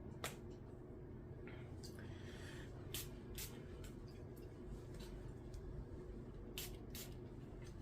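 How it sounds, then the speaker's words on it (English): Several quick, faint spritzes of an older 1990s perfume with sandalwood notes, sprayed from a bottle and spaced irregularly over a low steady background. "I'm gonna spray her on."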